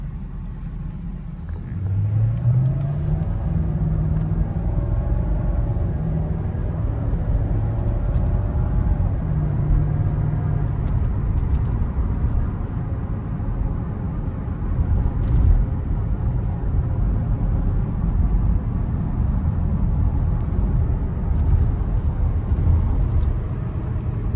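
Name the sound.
Mercedes SL500 car driving in traffic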